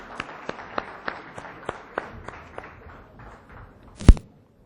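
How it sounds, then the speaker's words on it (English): Audience applause at a conference in Islamabad, heard as a sparse run of separate claps spaced about every third of a second, fading out, then one loud sharp thump near the end. "Can we clap for Mr."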